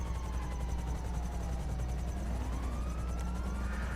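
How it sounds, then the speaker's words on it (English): A police helicopter's rapid rotor chop thrums steadily in the GTA V Online video game while a police siren sweeps up and down over a low engine rumble. "the police helicopter lands right next to it"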